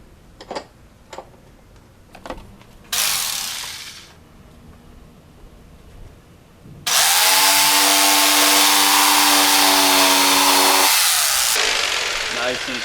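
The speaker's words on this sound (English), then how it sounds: "I'm just going to use this jigsaw to cut the board to my 42-inch length" A jigsaw cuts through a wooden board in two bursts, a short run and then a longer, loud, buzzing cut with a steady motor whine, after a few sharp clicks and taps.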